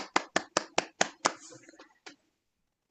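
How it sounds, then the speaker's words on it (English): A short burst of handclaps from participants in an online meeting, about six sharp claps close together, then a few scattered ones trailing off into silence. "we could unmute and actually audibly applaud and thank people"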